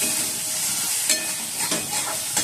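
Soybean chunks and spices fry in a pan with a continuous close sizzle, and a few scraping stirs rise above it. No one speaks.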